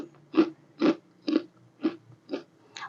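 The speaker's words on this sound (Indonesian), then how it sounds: "Ini kriuk banget ya, Bud." Crunchy fried basreng, spicy balado-seasoned fried meatball snack, bitten and chewed up close in six evenly spaced crisp crunches, quiet and alone.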